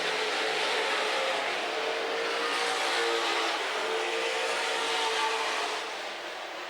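Super Stock race cars roar around the Amsoil Speedway track, a continuous distant wash of engine noise and rumble with no talk, fading slightly at the end.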